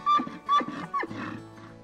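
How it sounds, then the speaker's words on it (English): A bull elk bugles three times in quick succession, each call a high, clear whistling squeal with a rough, grunting undertone, sounding close and fairly loud. "Wasn't that neat hearing the bull elk bugle?"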